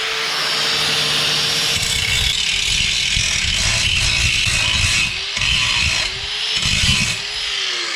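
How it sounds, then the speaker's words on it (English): Angle grinder cleaning and shining up metal on the rocker panel of a Mercury Sable station wagon before welding, a loud continuous grinding whine with steady abrasive rasp, briefly dipping and surging as the tool is worked across the steel, close by with no talk. "we're going to clean a little bit more up so it's good, and it'll weld nice with the grinder"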